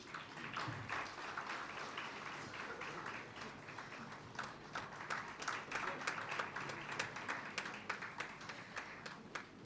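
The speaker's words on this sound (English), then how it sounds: "A big round of applause," Audience applause at a national sports Ayurveda conference, following a felicitation on stage: steady, dense clapping through the whole stretch at moderate distance, fairly quiet overall with a faint murmur beneath.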